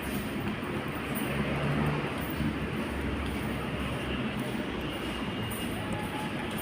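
Steady low rumble of an LRT light rail train rolling past, continuous and fairly loud, with some indistinct voices in the background.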